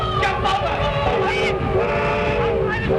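A train rolls past with a rumbling roar, while tonal whistle-like squeals rise and bend above it, loud and near throughout.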